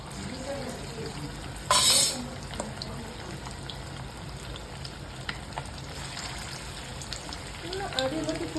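Chicken pieces fry in hot oil with a continuous bubbling sizzle. One loud hiss flares up as a piece drops in, and light clatters and stirring follow. Occasional speech comes through faintly.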